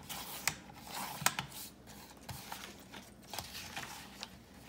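Scissors snipping out small paper mitten shapes for a Home Alone themed planner spread, a quiet series of short crisp cuts and rustling paper, close and soft with no talk.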